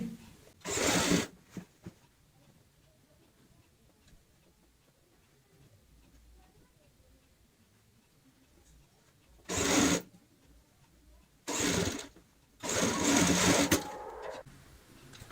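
A sewing machine stitches a strip onto a handbag in short separate runs: one near burst early, then three more close together toward the end, with quiet gaps between them and no talk.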